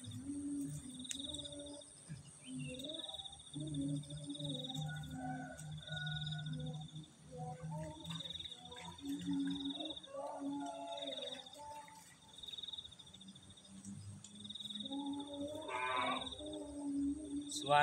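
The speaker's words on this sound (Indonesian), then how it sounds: "Suara jangkrik, suara guys, pokoknya mantap ya." Crickets chirp steadily in an outdoor sweet potato field, a continuous high trilling layer that runs throughout, with other insect and animal calls mixed in and no talking.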